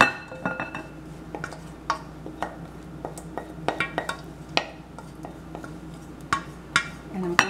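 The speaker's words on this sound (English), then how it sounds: "Pour it in here, in the glass bowl." Rhubarb porridge being poured and scraped into a glass bowl in a home kitchen, with a series of light clinks and taps of utensil on glass, faint and irregular over a quiet room hum.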